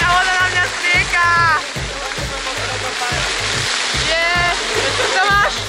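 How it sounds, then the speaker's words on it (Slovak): Water spraying and splashing outdoors onto a person, a loud continuous rush punctuated by splatter bursts, with excited voices and shrieks over it. "Tá voda na mňa strieka."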